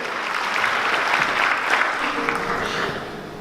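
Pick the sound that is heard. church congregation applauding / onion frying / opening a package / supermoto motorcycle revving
church congregation applauding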